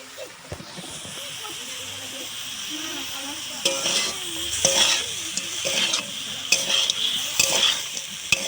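Meat curry with potatoes being stirred in a pan, a broad steady sizzle with repeated scraping strokes of the spoon growing louder midway, and a voice speaking briefly underneath.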